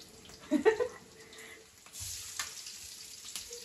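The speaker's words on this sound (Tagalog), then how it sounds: "ako po ay magigisa na ng bawang sibuyas" Garlic and onion sautéing in a pan without added oil, with a loud burst of sizzling and spatter as the ingredients hit it, then a steadier, softer frying hiss and occasional stirring.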